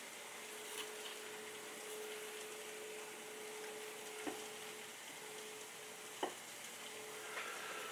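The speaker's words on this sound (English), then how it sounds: "Another stir." Soft stirring of homemade ballistic gel, a faint, steady wet swishing with a few small knocks of the utensil against the container, quiet and with no talking.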